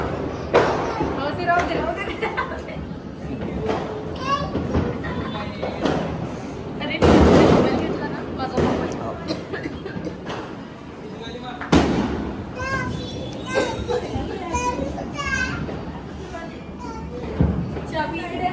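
Firecrackers go off between apartment buildings during Diwali, with a few sharp bursts and thumps, the loudest near the middle, scattered among people talking and children's voices.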